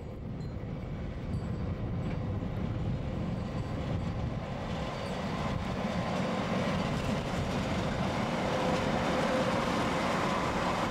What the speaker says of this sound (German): Wie eh und je sind Züge der Wengernalbbahn auf dem Weg von Lauterbrunnen zur Station Kleine Scheidegg.